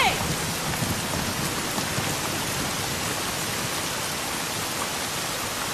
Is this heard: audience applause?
no